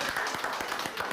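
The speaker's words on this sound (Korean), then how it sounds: "박수 한번 드리겠습니다" Short spell of audience clapping at a Korean health program taping, a few scattered hand claps at moderate level over room noise.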